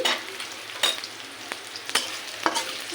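A spice paste fries in a pan until light brown, giving a close, steady sizzle broken by quick stirring scrapes and clinks of a utensil against the pan.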